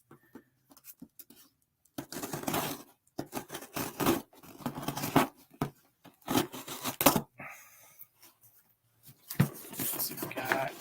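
Scissors and hands work at a taped package, giving irregular bursts of snipping, tearing and rustling, fairly close and quiet, with short pauses between cuts.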